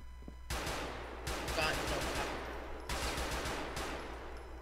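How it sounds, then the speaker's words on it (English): Gunfire in the video game GTA IV, with several loud sustained bursts of automatic shots separated by brief gaps, over a steady low hum. "Shots are fired."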